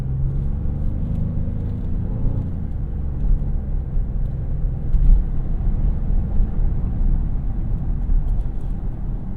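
A 2025 Genesis GV80 accelerates onto a highway, a steady low engine and road rumble heard from inside the cabin, rising slightly in pitch early on and then droning evenly with no talk.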